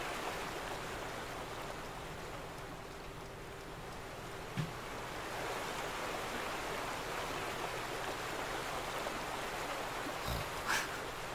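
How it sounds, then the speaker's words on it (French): River water flowing in the video game The Vanishing of Ethan Carter near a dam, a steady broadband rushing hiss, continuous and even, with a couple of faint brief knocks. "la rivière fuit."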